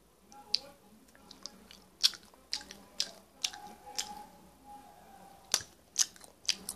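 Someone eats a Garu Cook lunchbox snack close up, with repeated small crisp bites and chewing clicks in an irregular rhythm, quiet and without talk.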